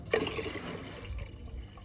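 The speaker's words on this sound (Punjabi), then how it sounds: "ਕੁੰਡੀ ਸਾਫ਼ ਕਰਤੀ ਪਾਣੀ ਡੋਲਤਾ" Water tipped out of a pigeon's drinking bowl, a brief splashing gush followed by trickling and dripping, close by with no talk.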